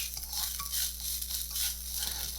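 Crab fried rice sizzles in oil in a pan while being stirred, a bright continuous hiss with small scraping pulses from the stirring, close up and with no talking.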